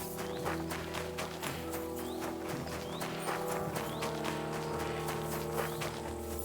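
In the video game Kingdom Come Deliverance 2, a horse's hooves clip-clop in a quick, steady galloping rhythm, close and clear over a low ambient game background.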